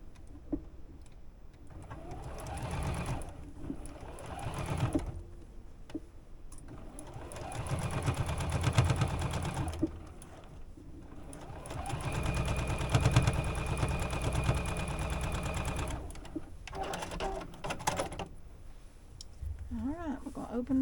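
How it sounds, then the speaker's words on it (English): A sewing machine stitches a quilt block seam in several bursts of steady mechanical whirring, moderately close, separated by short quiet pauses and handling noises. "And then we're going to stitch this right down through here."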